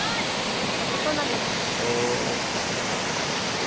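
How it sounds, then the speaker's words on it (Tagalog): Steady broadband rush of a waterfall at Sicao Falls, a continuous dense roar that stays even and loud throughout with no clear breaks. "So, another falls na naman sa aming destination."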